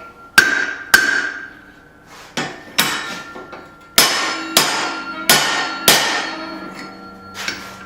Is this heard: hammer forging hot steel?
yes